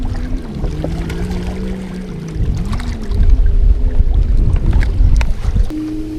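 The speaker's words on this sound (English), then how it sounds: "That boat and jet ski noise is almost more annoying than the waves that they create." Motorboats and jet skis run on a lake at night. A steady engine hum shifts in pitch and swells into louder churning water and motor noise, with no one talking.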